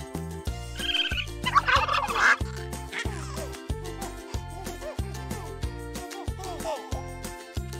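Turkey gobbling in the video game Mother Simulator, a few bursts of gobbles near the start over a steady, rhythmic background music track that continues throughout.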